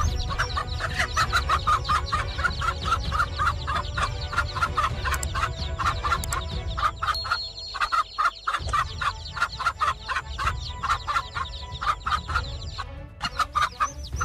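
A mother hen clucks and growls steadily while guarding her chicks against a king cobra, her rapid, agitated calls near and loud over a constant outdoor background, with no talking.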